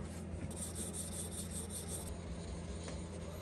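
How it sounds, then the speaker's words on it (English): Quiet, continuous rubbing and rasping of sanding and polishing scratches off a metal Mitutoyo height gauge, steady strokes with no speech. "Give this bit of wee kind of sanding, wee polishing, just to try and knock the scratches and that off it."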